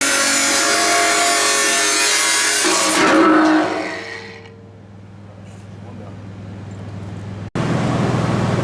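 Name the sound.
grinder cutting through where the saw did not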